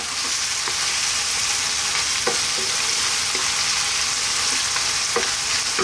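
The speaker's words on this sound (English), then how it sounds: "Just give us a little mix before the next step." Lamb curry in a pan sizzling steadily as fresh chili is stirred in, with occasional scraping clicks of the spoon over a constant frying hiss, no talking.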